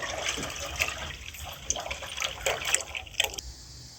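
Second batch of strained wheat-residue water poured into a cooking pot while making traditional samanu, a steady liquid pour with brief splashy bursts, close and moderately loud.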